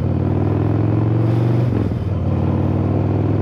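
A Harley-Davidson Road Glide motorcycle with upgraded suspension rumbles loud and close with a deep idling throb, then its tone shifts midway as it pulls away and rides off.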